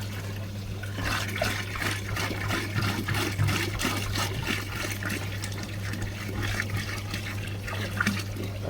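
Water running steadily into a tank while roughly ten liters are filled, a continuous splashing, trickling pour close by with a low steady hum underneath and no talking.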